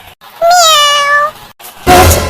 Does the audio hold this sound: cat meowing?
yes